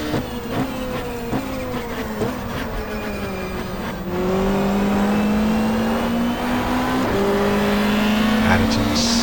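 A 1995 Australian Super Touring car at Calder Park in the racing game GTR2 runs flat out in sixth gear at over 200 km/h, its engine droning steady and loud, pitch climbing after an upshift, while someone talks over it.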